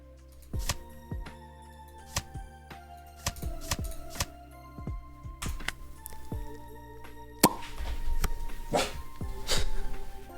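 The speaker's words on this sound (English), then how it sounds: "Sorry, I scared my dog." A pet dog yelps, barks and whimpers in a room, short sharp cries spaced irregularly with clicks and rustles between, growing busier toward the end.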